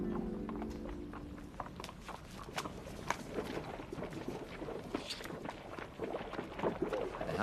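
Hooves of a horse pulling a cart clop faintly in an uneven rhythm across sand, distant and quiet, with birds and faint background murmur around them.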